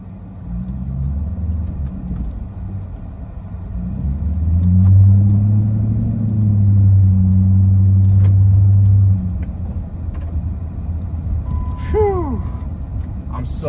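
Hemi V8 in a 2006 Chrysler 300 on a hot day, a deep engine rumble heard from inside the car that swells loud in the middle and then settles to a steady hum, ending with some short squeaky sounds.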